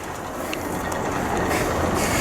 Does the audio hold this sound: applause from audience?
no